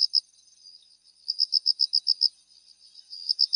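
Crickets and bell crickets chirping outdoors in early autumn near rice fields, a high, thin pulsing trill in rapid bursts of chirps with short pauses, steady and fairly soft, with no voices.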